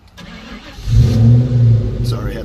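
A 1997 Ford Mustang SVT Cobra engine cranks and fires up close, settling into a loud, steady rumble with a brief rev.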